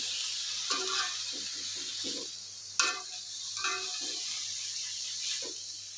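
Green beans with a little water are stirred in a pan over a steady sizzling hiss, with intermittent scraping and clinking strokes of a utensil, several distinct scrapes close by and one sharper knock midway, no talk.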